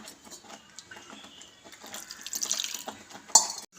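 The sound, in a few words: water poured into sorghum flour dough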